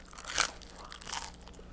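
Two crisp crunches of biting into French fries, close and fairly quiet, followed by faint chewing.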